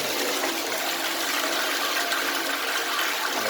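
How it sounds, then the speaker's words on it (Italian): A toilet flushes after its tank refills, following a clog being cleared, producing a loud, steady rush of water up close that holds at full strength from start to finish. "Tiriamo lo sciacquone."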